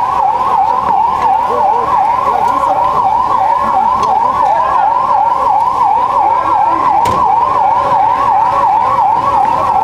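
Ambulance siren wailing at a mock drill in Hyderabad, a loud, close, rapidly cycling electronic wail repeating steadily without pause, with faint background rumble beneath.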